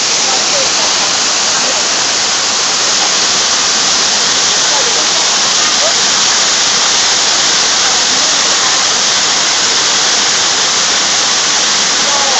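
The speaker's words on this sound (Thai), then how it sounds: "ที่นี่น้ำตกแม่พูน" Loud, constant rush of Mae Phun waterfall in Narathiwat, Thailand, a dense roar of falling water filling the whole clip without pause.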